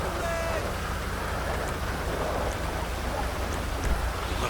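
Rain pours steadily in GTA V during a police patrol, a dense, constant hiss of falling water with faint low rumbles underneath and no talk.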